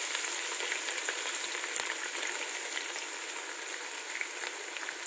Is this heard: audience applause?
no